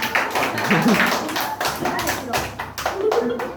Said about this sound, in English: Everyone, clap your hands!